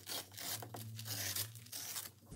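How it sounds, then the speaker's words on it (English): Paper being torn by hand while assembling a vintage-style junk journal, with several rasping tearing strokes over about two seconds, close and fairly quiet, over a low steady hum. "I'm going to tear rather than cutting. So first I'll tear this part off."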